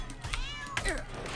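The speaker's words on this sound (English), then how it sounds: "He's beating up a cat." In the South Park: The Stick of Truth video game, a cat being beaten lets out two close, wavering meows in quick succession over a low background hum.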